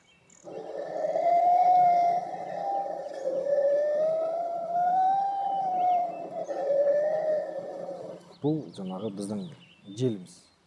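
A kobyz, an ancient Asian bowed string instrument, imitates wind with a sustained, eerie, whistling drone that rises and falls in slow swells for several seconds, then breaks into a few short rasping bowed strokes.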